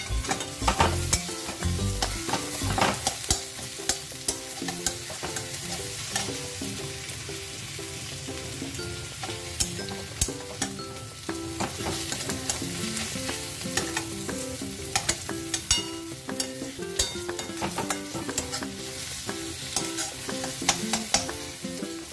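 Tomato sizzles and fries in a pan while being stirred, with a continuous crackling hiss and repeated sharp scraping strokes of the spoon, loud and close, with no voices.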